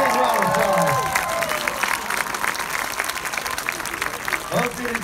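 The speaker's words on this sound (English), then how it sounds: "please give a big round of applause." Audience at a basketball tournament awards ceremony claps and cheers loudly, with shouts and whoops rising over the clapping at first, then settling into steady applause as a voice speaks over it briefly.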